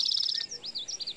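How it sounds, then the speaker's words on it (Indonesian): A cengkurileng bird calls in a former rubber plantation area at Gunung Bitung, giving a fast run of thin, high chirps followed by a few warbling notes, faint and alone. "hanya burung cengkurileng. Burung-burung lainnya sudah tidak terdengar."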